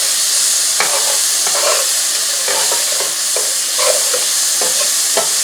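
Vegetables for a New Orleans-style shrimp and sausage pasta sauté in a hot pan, a steady sizzle and hiss broken by repeated scraping stirs every second or so, close and loud with no talking.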